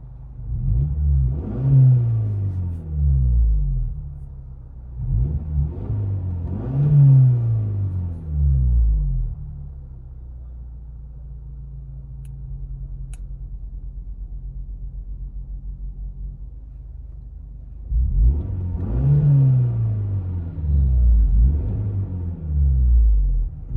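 From inside the cabin, a 2024 Hyundai Sonata N-Line 2.5L with its Valvetronic exhaust valves open revs in several rising and falling bursts, and a steady low idle hums in between, with no talking.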